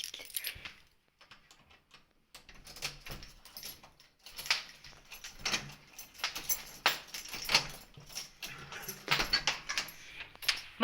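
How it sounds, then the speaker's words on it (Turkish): Keys jangle and a door latch clicks open, followed by rattling and shuffling noises close by as the door swings; no talking. "Kapı"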